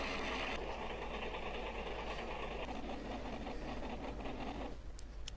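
MAN B&W marine diesel engine slowing as its RPM falls, a loud, dense, steady mechanical rumble and clatter from close by that thins slightly toward the end, with no voices.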